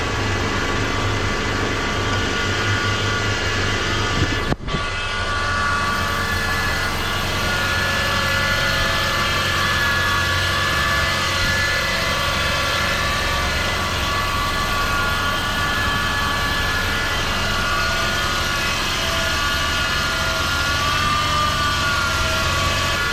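A 2007 Toyota 4Runner with 151,759 miles idles steadily after starting on a new battery, a continuous low engine drone with a brief click partway through and no talking.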